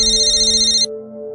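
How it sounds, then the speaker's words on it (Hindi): A mobile phone ringtone rings loudly and alone as a bright repeating electronic melody, cutting off abruptly partway through, leaving a quiet background. "आपका फ़ोन हमेशा गलत वक्त पे क्यों बजता है?"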